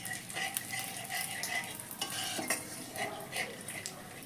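Chicken being stirred in a hot pan with sugar and spices for Kolkata-style chicken kosha, giving a steady sizzle with repeated scraping and clinking strokes, close and moderately loud, with no talk.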